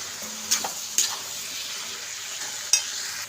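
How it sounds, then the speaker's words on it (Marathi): Crushed peanuts being stirred into a frying eggplant and bean vegetable dish, a few spoon knocks and scrapes over a soft continuous sizzle. "हा शेंगदाण्याचं कूट पण ॲड ॲड केलं आहे तर छान याला मिक्स करून घेऊया व्यवस्थित असं"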